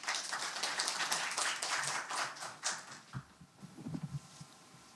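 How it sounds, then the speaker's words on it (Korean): Applause fills a hall at the KARA 2024 young scientists and young entrepreneurs forum, a dense, steady clapping from a sizable audience that thins to scattered claps and fades out near the end. "큰 박수 부탁드립니다"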